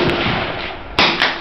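A handgun fires twice in quick succession at close range, each a sharp loud crack, over a steady outdoor background hiss at a shooting event.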